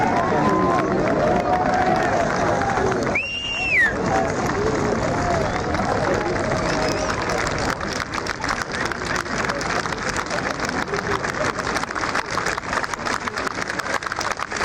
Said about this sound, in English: They will cheer her all the way to the 16th tee.